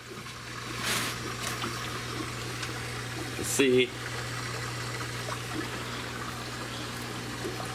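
Water spills over the rim of an overfilled aquarium tank in a fishroom, a constant soft trickle and pour with one brief louder splash partway through and a short spoken remark.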